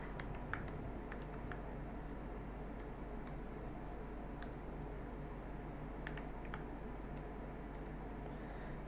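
Fast keyboard typing while code is written, a steady run of light clicks and key taps over a constant low hum, close and fairly quiet, with no voice.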